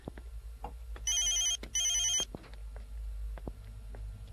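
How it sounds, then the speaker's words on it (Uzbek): A phone rings in two bright electronic bursts, close and loud, among faint clinks and light background noise. "Voy, telefon keldi, to'xtab turinglar."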